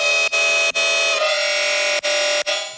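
A bright, buzzy metallic preset on the Vital synthesizer holds sustained chords with a harsh metallic edge, cut by short gaps, loud and up close.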